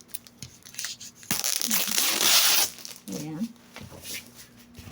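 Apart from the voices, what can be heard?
tearing open wrapped balikbayan box packaging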